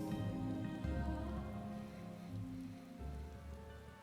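Steady rain falls in Final Fantasy XIV, a continuous wash of patter on surfaces layered with soft droning game ambience and music tones, moderately loud and unbroken throughout.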